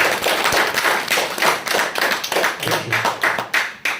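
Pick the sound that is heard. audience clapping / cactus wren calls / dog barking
audience clapping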